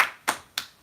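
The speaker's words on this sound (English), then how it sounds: "applause to Patricia" Three sharp, separate hand claps spaced about a third of a second apart, close and crisp, each with a short decay and nothing else underneath.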